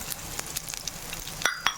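Cumin seeds fry in a pan with peanuts for a raw cucumber chutney, giving a soft continuous sizzle with a couple of sharp metallic clinks from a stirring spoon near the end.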